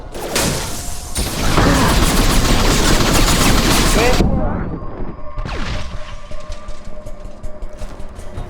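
Heavy automatic gunfire from a battlefield in the video game Mass Effect 2, a dense, loud burst of continuous shots. It fades out and gives way to a quieter mechanical passage with scattered impacts.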